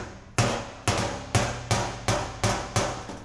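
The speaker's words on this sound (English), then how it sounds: "I got the edge of my dolly right underneath here, and I want to hammer a little bit on that" Eight evenly spaced, ringing hammer blows on sheet metal backed by a dolly, each sharp strike decaying quickly before the next. No talking.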